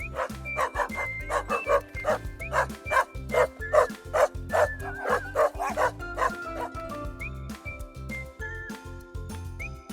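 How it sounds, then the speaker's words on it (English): A dog barks in a rapid, rhythmic run of short yaps and bow-wows, many quick barks in a row that thin out toward the end, with light music playing underneath. "dog,"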